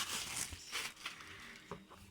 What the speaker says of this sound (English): How can I remove the plastic bag?